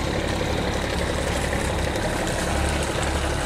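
A heavy barge engine drones steadily and loudly, a constant low rumble with mechanical chatter and no pauses throughout.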